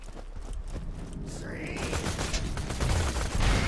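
Enemy gunfire in Borderlands 2 rattles in rapid, steady bursts over continuous background game noise, growing louder toward the end.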